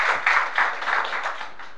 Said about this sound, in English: I think for that she needs a very big applause